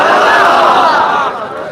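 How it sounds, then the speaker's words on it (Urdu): A huge crowd surges at a nighttime Shab-e-Barat religious gathering, its roar a dense, loud, steady wall of voices that eases slightly toward the end. "یہاں پر جو ٹھاٹے مارتا ہوا انسانی ہجوم ہے"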